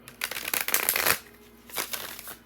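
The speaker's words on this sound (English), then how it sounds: "These cards are so hard to shuffle." Thick, stiff tarot cards being shuffled by hand, a close crackling riffle lasting about a second, then a shorter, softer second shuffle.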